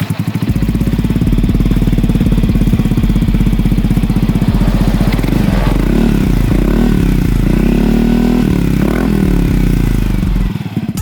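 A Yamaha NMAX scooter fitted with an R9 ZR aftermarket exhaust idles with a loud, deep, steady burble up close, then gets several quick throttle blips midway before settling back to idle.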